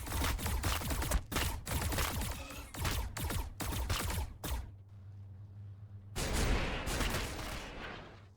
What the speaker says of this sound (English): So he's using the missiles there